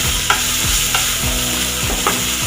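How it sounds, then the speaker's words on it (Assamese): Pointed gourd fries in a pan as garam masala is stirred in, with rhythmic spatula scrapes about every half second over a loud, continuous sizzle. "ভালদৰে লৰাই দিছোঁ"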